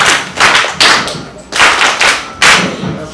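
A church congregation claps together in several sharp, loud rounds, each burst of hand claps starting abruptly and then tapering off before the next.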